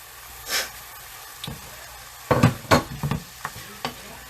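Chicken and peapods stir frying in a hot pan, with a steady sizzle and scraping stirs, clustered clatters and hisses as the food is pushed around, with no talking.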